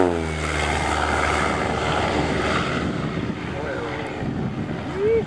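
A light propeller plane makes a low pass overhead at a ranch fly-in in California, its engine loud and steady, with wind buffeting the microphone and a voice speaking briefly beneath.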